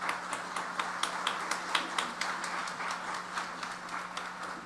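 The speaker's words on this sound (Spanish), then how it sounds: "Recibimos con un fuerte aplauso al doctor Sebastián Patistán Méndez" Applause from a conference audience at the Universidad Autónoma de Chiapas, welcoming a speaker: steady, moderately distant clapping with sharp individual claps standing out, sustained evenly for several seconds under a constant low hum.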